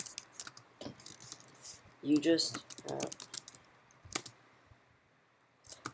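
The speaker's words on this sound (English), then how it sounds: "I'm going to type in a short little sentence about coding." Computer keyboard typing heard as scattered clicks and keystrokes while entering a short sentence into an HTML coding program, with a voice speaking briefly in the middle.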